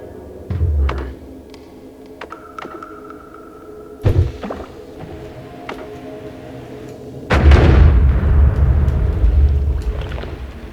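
A bomb exploding in the video game Noita, a loud low boom that swells and rumbles on for a few seconds after smaller thuds and pops earlier on.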